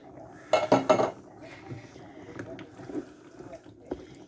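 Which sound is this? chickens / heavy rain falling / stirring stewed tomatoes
stirring stewed tomatoes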